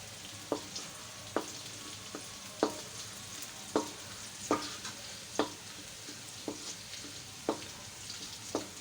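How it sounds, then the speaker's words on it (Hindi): Garlic and green chili fry in a pan, giving a soft steady sizzle broken by regular sharp clicks of a utensil stirring against the pan, fairly quiet and close, with no talking. "मेरा लहसुन डाला है, मैं लहसुन ब्राउन होने तक फिर मैं ये थोड़ा सी हरी मिर्च डालूंगी इसके अंदर।"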